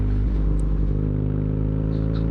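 A BMW R nineT motorcycle idles close by, its exhaust giving a deep, steady, rumbling burble with a lumpy, pulsing rhythm.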